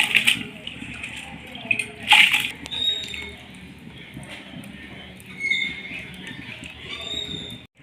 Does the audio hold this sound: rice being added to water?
yes